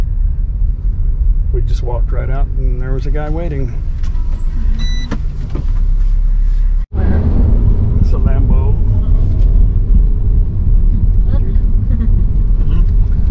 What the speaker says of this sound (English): back in the rush hour traffic